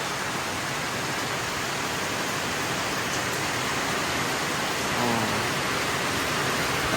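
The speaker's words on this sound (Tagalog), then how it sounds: "Ang lakas ng ulan." Heavy rain pours down around a house under construction with a newly installed metal roof over the terrace, a dense, loud, unbroken hiss that stays steady throughout.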